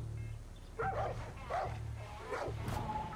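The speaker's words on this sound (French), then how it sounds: "Mais il y a d'autres chiens là." Dogs barking in the video game Far Cry 6, three or four deep, loud barks at a steady pace over a constant low engine-like drone.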